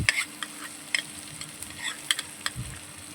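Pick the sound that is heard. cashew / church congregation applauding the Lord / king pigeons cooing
cashew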